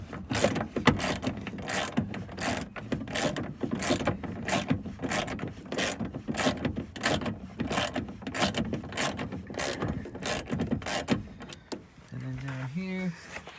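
Ratchet loosening a bolt on a Jeep Grand Cherokee door while a window regulator is replaced, a rapid, steady run of close mechanical clicks lasting many seconds. The clicking stops near the end and someone speaks briefly.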